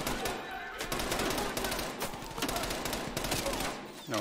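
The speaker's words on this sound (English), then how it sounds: "straight away we have some lovely friendly fire" Dense, loud bursts of rapid gunfire in Call of Duty Black Ops Cold War on PS5 from a friendly-fire exchange, with overlapping volleys and brief gaps between them.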